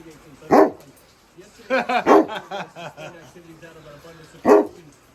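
A dog gives a few short barks, spaced out, with quieter vocal sounds in between.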